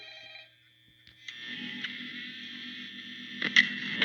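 A telephone rings in the horror game Five Nights at Freddy's, a steady electronic ring with a low hum underneath that grows slightly louder toward the end.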